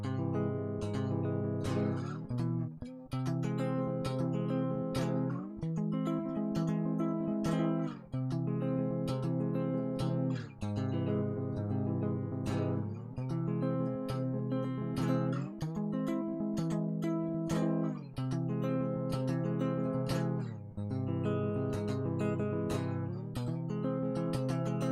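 A guitar strums chords on only its bottom four strings, ringing clearly and alone in a steady rhythm, each chord sounding and sustaining before the next change.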